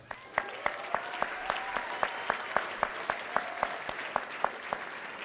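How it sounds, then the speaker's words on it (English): An audience at the SURFER Poll 2011 awards applauds surfer Rob Machado with evenly paced, distinct claps from a fairly small group, steady from start to finish. "I just wanted to give a round of applause to our good friend"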